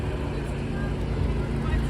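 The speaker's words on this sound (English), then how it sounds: "A lot of traffic down here, isn't it?" New York City street traffic rumbles continuously, a dense low wash of engines and passing vehicles close by, with a voice speaking over it.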